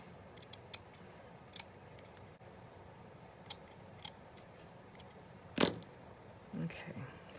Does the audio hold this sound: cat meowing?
no